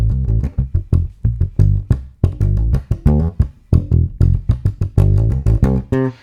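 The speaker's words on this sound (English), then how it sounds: "you'll hear that there's a lot more ghost notes, dead notes, ghost notes, than fretted notes." A funk bass groove played with far more muted ghost notes than fretted notes, giving a busy percussive rhythm of short, clipped plucks and sharp attacks, close and loud with no talking.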